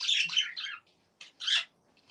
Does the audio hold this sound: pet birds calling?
yes